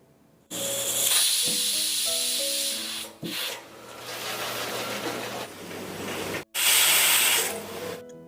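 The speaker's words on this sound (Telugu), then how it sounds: "కుక్కర్ మూత పెట్టేసి హై ఫ్లేమ్లో నాలుగు విజిల్స్ రానివ్వాలి" Pressure cooker on high flame cooking sweet pongal: loud, close jets of hissing steam with a shrill whistling tone, one long whistle that breaks off, resumes more softly, cuts out briefly and then returns as a strong final blast.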